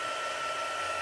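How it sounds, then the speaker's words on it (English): A Stampin' Up heat gun runs for heat embossing, giving a steady, close whirring blower hiss throughout the short moment. "So now I'm going to just heat this with my heat gun,"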